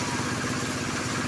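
A machine engine runs steadily and loudly at a work site where pipe is being laid into the ground, with a continuous mid-pitched idling chug and clatter and no talking.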